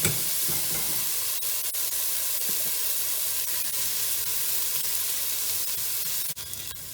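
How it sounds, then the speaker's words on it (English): Onion softening gently in a pan over lowered heat, a steady continuous sizzle with faint stirring scrapes throughout, close and fairly quiet, no voices. "This is sort of sautéing. It's just softening the onion."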